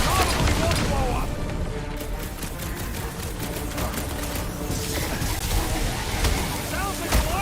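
Dense, rapid gunfire crackles continuously alongside explosive booms in Marvel's Guardians of the Galaxy, with a busy layered mix of game effects and voices talking over the action.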